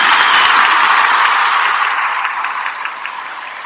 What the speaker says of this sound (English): I wanted to give I'm in a Symphony a round of applause.